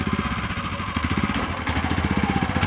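A soil tilling machine's engine runs steadily while working a field being prepared for planting onions, with a close, rough, rhythmic chugging pulse that continues throughout.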